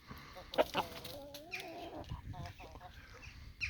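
Chickens and roosters cluck nearby with short calls and a drawn-out squawk, faint and scattered over a quiet farmyard background.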